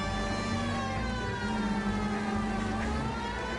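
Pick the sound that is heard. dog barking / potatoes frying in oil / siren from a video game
siren from a video game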